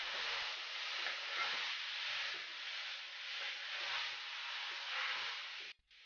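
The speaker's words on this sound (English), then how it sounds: "Make sure you mix all the spices really well." Spices with bay leaves and cinnamon stirred in a hot pan for chicken tagine, a steady close sizzle with soft scraping strokes running throughout and cutting off at the very end.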